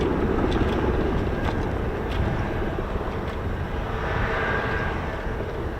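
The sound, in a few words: Spanish Typhoon fighter jet passing at air show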